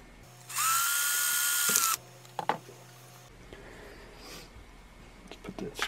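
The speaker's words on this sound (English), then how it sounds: "Go ahead and drill a hole in the bottom here." A power drill bores a hole in the bottom of a homemade ultraviolet-C germ sterilizer wand. It gives one loud, steady high whine of about a second and a half, then small clicks and handling noises nearby.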